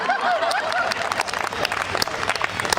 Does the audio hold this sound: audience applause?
yes